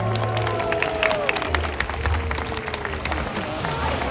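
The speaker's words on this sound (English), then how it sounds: "Everybody, please give a big round of applause for Corky" An audience claps and cheers in the stands at the SeaWorld San Diego Orca Encounter show, a broad, steady patter of applause with some whoops, while an amplified announcer's voice carries over it.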